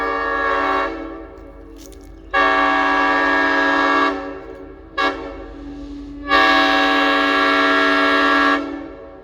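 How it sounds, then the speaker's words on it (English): An EMD GP7 locomotive, built in 1951 for the U.S. Army and fitted with an ex-Southern Railway Nathan M5 train horn, sounds a loud, close sequence: a short blast, a longer one, a brief toot and a final long blast. "the horn equipped on the 1829 would be an ex-Southern Railway Nathan M5 train horn"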